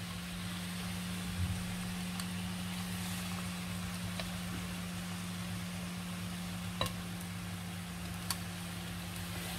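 Salt cod fritters (accras de morue) frying in hot oil in a deep pot, a steady broadband sizzle running throughout with a low hum underneath and a few faint clicks, no one speaking.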